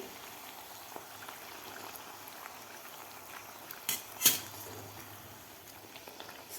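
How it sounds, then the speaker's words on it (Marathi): Carrot puris (gharge) fry in hot oil over a lowered flame with a soft, steady bubbling sizzle, quiet and close, and a couple of brief louder crackles near the middle, without any speech. "व्यवस्थित आपल्याला हे पुऱ्या तळून घ्यायच्या आहेत"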